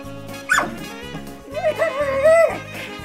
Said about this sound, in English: Puppy wrestles with a bed.